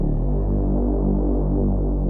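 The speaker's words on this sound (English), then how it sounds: "I want this sub to be mixed with some of the distortion" An EDM sub bass blended with soft-clip distortion drones as a deep, steady, throbbing tone with buzzy harmonics, sustained and alone for about two seconds.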